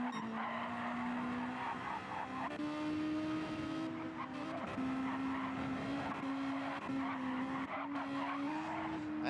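Honda Civic Type R race cars lapping the Sardegna B circuit in Gran Turismo 7, engines droning steadily with rising pitch through gear changes and intermittent tire squeal, loud and continuous throughout.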